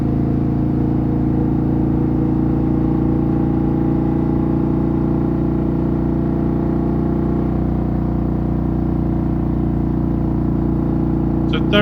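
A Harley-Davidson CVO Road Glide ST with a 135 engine pulls steadily and loudly in gear around 3,500 rpm, a dense continuous low drone with constant road and wind noise and no speech.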